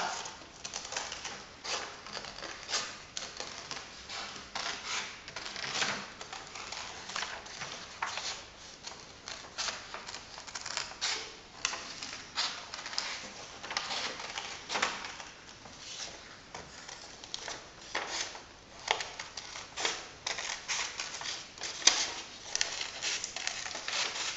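Paper being cut into abstract shapes for a mobile with scissors, a steady run of close, crisp snipping and rustling strokes in quick irregular rhythm, alone without talk.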